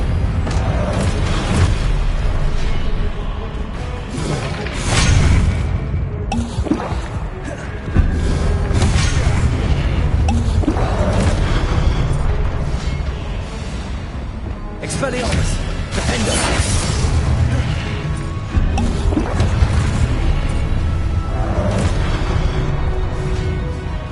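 Expelliarmus spell blasts in the video game Hogwarts Legacy, a run of loud booming, crashing impacts in a busy battle, with repeated sharp hits among continuous game noise and a voice talking throughout.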